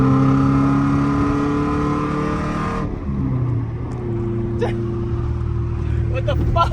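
Nissan 240SX S13 with a KA engine and a loud exhaust revs hard up to a high, strained pitch, then drops through a gear change and pulls on at a lower, steady drone from inside the car.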